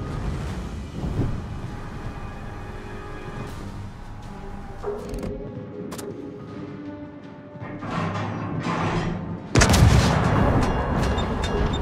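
Naval artillery from a tier-nine Swedish destroyer in the World of Warships game, heavy booming salvos over a constant rumble of wind and sea, with a big close blast near the end.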